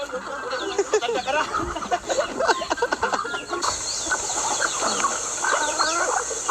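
Chickens cluck repeatedly nearby in a busy, overlapping chatter as one is held, with some people talking in the background.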